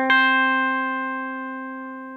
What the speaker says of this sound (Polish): W ten sposób znaleźliśmy dźwięk C na wszystkich sześciu strunach.